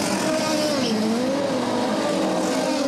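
A 2006 ChampCar open-wheel race car at speed on the Surfers Paradise street circuit, a loud high engine whine sweeping down and back up through a corner exit, with crowd and track ambience beneath.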